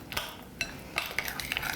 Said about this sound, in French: OK, donc je mélange bien.